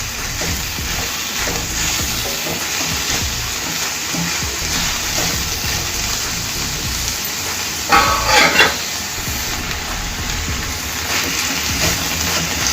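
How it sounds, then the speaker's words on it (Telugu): Washed moong dal and other ingredients for an onion dal curry are stirred in a pot with a spoon, a continuous soft scraping and shuffling, with a brief louder clatter of utensil on metal midway. "ఇదంతా ఒకసారి కలిపేసుకోవాలి, మొత్తం కలిసే విధంగా"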